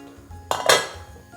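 A cooking pot clatters against the stove while being set down and shifted during tagliatelle with celery root preparation, a sharp metallic clank followed by a brief scraping rattle, close and alone.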